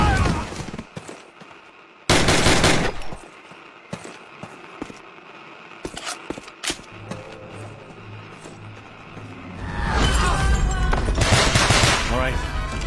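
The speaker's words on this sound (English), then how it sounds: "Bowman, Carlos, lay down covering fire." Bursts of gunfire and explosions in Call of Duty combat, sharp scattered shots and loud sustained volleys with a rumbling engine-like drone underneath, heaviest at the start and again near the end, mixed with shouted game dialogue.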